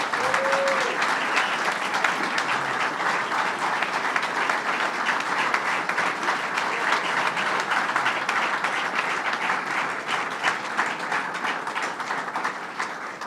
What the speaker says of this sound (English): So let's give Joni Mahoney a big round of applause.